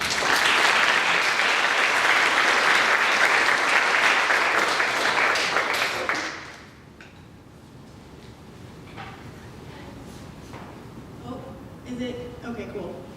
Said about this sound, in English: We'll give them some applause.